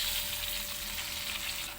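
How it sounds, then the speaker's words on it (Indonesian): Red chili and tomatoes sizzle steadily as they are stir-fried in a hot pan, a close, continuous crackling fry with no talking. "selanjutnya boleh kita masukin cabai merahnya dan juga tomatnya sekaligus ya. Ini kita oseng-oseng lagi."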